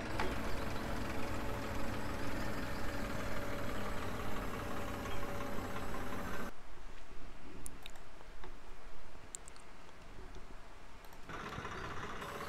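A Swaraj 855 tractor engine in Farming Simulator 19 gives a steady mid-low drone that cuts out abruptly for several seconds, leaving faint clicks, then resumes. No one talks over it.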